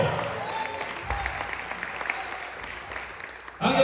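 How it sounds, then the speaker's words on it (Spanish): A church congregation claps at a Christian revival service, moderate applause mixed with murmured voices and reverberant room sound, ending in a louder swell. "Dale un aplauso a Jesús"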